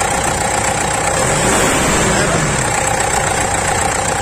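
The engine of a 2008 Mitsubishi Triton that has a faulty EGR valve runs close by with a steady, loud drone that rises a little as it is revved, while someone talks over it.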